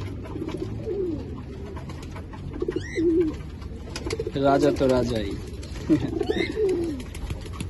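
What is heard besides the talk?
pigeons cooing in a loft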